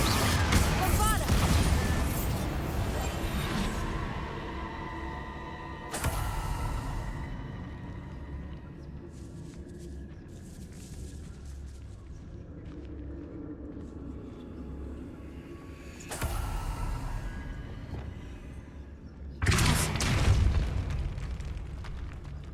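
Bombarda spell explosions in Hogwarts Legacy, several loud booming blasts at intervals with rumbling decay between them, under battle ambience.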